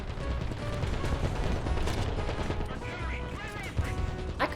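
Tank cannon fire and battle noise in the video game War Thunder, a dense, loud wash of gunfire and impacts with sharp blasts near the end, while a player talks over it.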